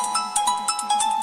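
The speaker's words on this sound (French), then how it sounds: "c'est une sonnerie que j'ai trouvée sur l'application thème" A phone ringtone from the MIUI 12 theme app plays alone: bright, chiming electronic notes repeat in a quick, bouncy pattern over a sustained tone, close and clear.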